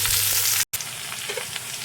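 Onion frying in hot oil with ivy gourd, a loud, steady crackling sizzle close by that cuts out for an instant and then carries on.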